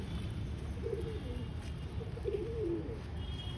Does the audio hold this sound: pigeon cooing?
yes